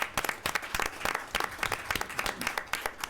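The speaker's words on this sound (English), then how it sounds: "So big round of applause for Mr." A small audience at a school board meeting claps for a staff member, a fairly quiet, uneven patter of individual hands clapping in quick, irregular bursts that stays steady for a few seconds.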